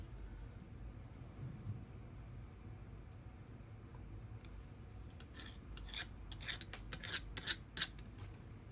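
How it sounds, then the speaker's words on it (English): A marker draws a center line across a bowling ball, heard as faint, rhythmic scratchy strokes that start after a quiet stretch of low background hum. "I'm gonna flip the ball over here, and I'm just gonna draw my center line now"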